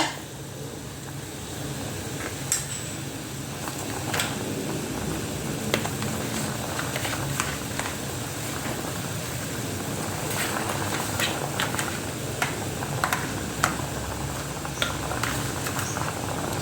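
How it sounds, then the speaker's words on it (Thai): A pot of Thai tilapia soup with potatoes bubbling and simmering steadily, with scattered small pops and clicks over a continuous low churning noise, fairly close. "เดือดแล้วค่ะทุกคน"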